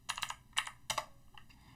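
Code being typed on a computer keyboard: three quick clusters of crisp key clicks with short pauses between, then two fainter taps, close and clear with no voices.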